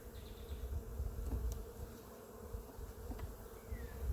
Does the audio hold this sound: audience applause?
no